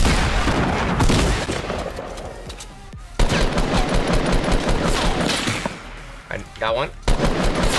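Gunfire in Fortnite Battle Royale, rapid loud bursts of shots and automatic fire, with a short quieter gap midway, while someone speaks briefly over it.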